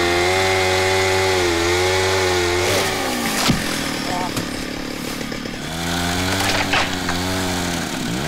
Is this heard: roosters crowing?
no